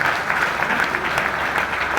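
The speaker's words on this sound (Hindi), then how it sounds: "ताली जोरदार बजाएं" Short burst of loud audience applause at a sales meeting, dense clapping filling the room for a couple of seconds.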